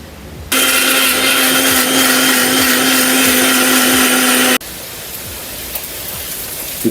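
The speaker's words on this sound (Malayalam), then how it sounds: "തക്കാളി, ഇഞ്ചി, വെളുത്തുള്ളി എന്നിവ മിക്സിയിൽ എടുക്കേണ്ടതായിട്ടുണ്ട്." A mixer grinder blends tomato, ginger and garlic with a loud, steady whirring roar that starts abruptly, runs for about four seconds, then cuts off, leaving a quieter room.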